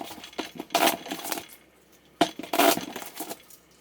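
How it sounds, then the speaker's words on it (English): Game cards from an encounter deck are shuffled in two quick riffle bursts, each a short fluttering clatter close up, separated by a brief pause. "Next, we'll shuffle the encounter deck."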